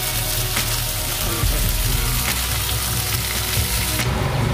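Pork steak sizzles steadily in a hot pan as onions and sauce go in, a loud continuous frying hiss with brief bursts of stirring and spattering and no talking.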